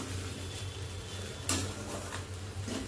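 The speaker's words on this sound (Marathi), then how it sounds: "छान असं परत एकदा मिक्स करू." A spoon stirs sheera seasoned with cardamom powder in a pan, giving soft, quiet scraping and light clinks, with one sharper knock partway through.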